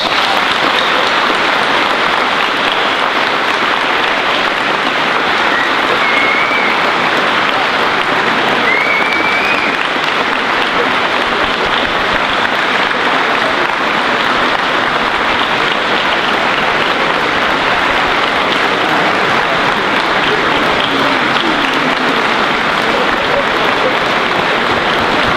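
Prolonged, loud applause from a large school assembly honoring seniors at a Memorial Day event, a steady roar of many hands clapping without letting up.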